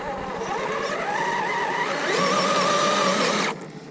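A radio-controlled car fitted with Pitbull tyres climbing a hill, its electric motor whining at a rising and wavering pitch under load, fairly close, then cutting off abruptly near the end.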